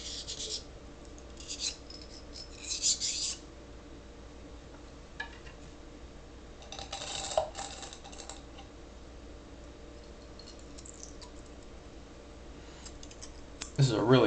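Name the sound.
bore brush scrubbing Sig P226 pistol barrel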